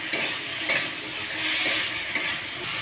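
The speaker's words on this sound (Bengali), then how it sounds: "আমার মশলা কষানো হয়ে গেছে।" Spice masala for a Bengali rui fish jhol with potato and pointed gourd frying and being stirred in a pan: a steady close sizzle with a few sharp scrapes of the spoon against the pan, no talking.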